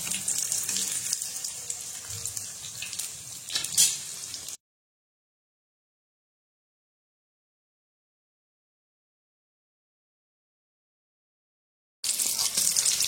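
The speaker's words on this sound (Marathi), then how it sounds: "अशा प्रकारे चांगला फ्राय करून घ्यायचा आहे मीडियम फ्लेमवरती." Chilapi fish pieces fry in hot oil in a kadai over medium flame, making a bright, continuous close sizzling hiss that stops abruptly and then resumes.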